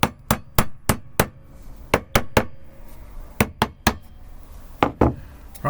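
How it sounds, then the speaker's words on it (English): A series of sharp taps from the side of a hammer on a wooden frame, coming in quick clusters of three or four with short pauses between, close and crisp with no talking. "Give it a slight tap with the side of the hammer."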